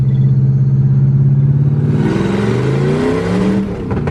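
A car with wheel hop accelerates in second gear. A deep engine drone swells into a louder, rising roar with a rough, shuddering edge, then eases off near the end.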